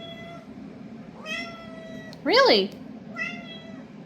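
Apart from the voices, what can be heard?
cat meowing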